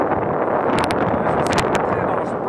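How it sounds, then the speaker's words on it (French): Strong wind buffets the microphone outdoors in a loud, continuous, rough roar with gusty fluctuations, while a few faint clicks break through. "Ça souffle bien fort, je vais pas tarder à rentrer."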